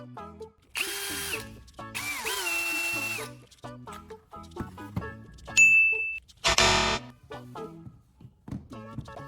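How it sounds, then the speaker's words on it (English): A cordless drill whirs in two short bursts, followed by scattered clicks, a beep and another brief high buzz, all close and loud. "after putting the battery pack into drill for a test"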